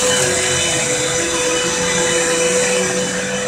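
A vacuum cleaner runs steadily and loudly throughout, a continuous motor whine with a strong steady tone, with no talking over it.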